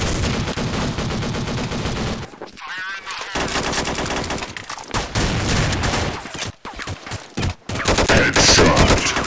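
A custom AR15 rifle fires in a video game, with loud, close, rapid automatic bursts that continue almost without a break, cut by a few brief pauses and ending in another dense volley.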